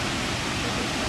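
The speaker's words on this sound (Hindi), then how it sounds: "आई नो कि कितना ह्यूज होता है ये वाटरफॉल" A huge waterfall at Bastar roars as a dense, steady wash of falling water, loud and continuous throughout without any break.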